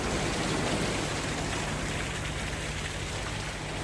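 Rain falls steadily at a seaside cliff on an island during a morning fishing trip, a dense, even hiss of drops close by with no voices.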